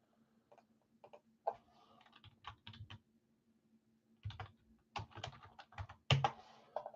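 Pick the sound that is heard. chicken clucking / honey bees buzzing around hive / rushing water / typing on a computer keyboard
typing on a computer keyboard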